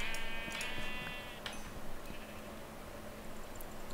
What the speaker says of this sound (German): Schafe brauchen wir erstmal nicht, ne? Die geben Wolle.